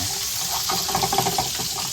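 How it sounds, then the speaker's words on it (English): Tap water pours into a pan of toasted couscous, a steady rushing stream that grows splashier and more gurgling as the pan fills, close and loud. "I'm gonna get the water in there."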